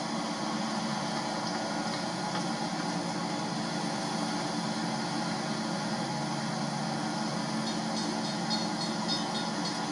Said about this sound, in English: It's like a work train